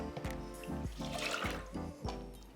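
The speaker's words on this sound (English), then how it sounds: "Milk," Milk poured for a flan pâtissier custard gives a soft, continuous liquid trickle, heard beneath a steady, pulsing low-pitched hum.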